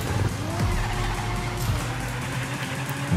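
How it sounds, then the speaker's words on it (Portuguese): In the racing video game Rocket Racing, a car drifts through a turn with squealing, skidding tires over a continuous engine roar, the screech rising and falling across a few seconds. "Vamos fazer um drift normal agora"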